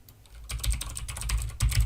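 Quick typing on a computer keyboard as an email address is entered, a short burst of close, crisp key clicks after a brief quiet start.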